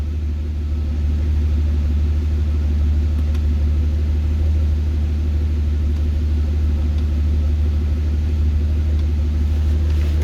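A 2005 Mercedes SL65 engine idling high during maintenance, a steady, loud low rumble that holds evenly throughout without pause.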